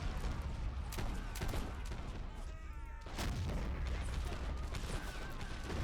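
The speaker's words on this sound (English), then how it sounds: "We're getting obliterated by the enemy artillery" Artillery in a Napoleonic Wars battle game, with repeated booming cannon shots and crackling volleys in a dense, loud battle din, pausing briefly midway before resuming.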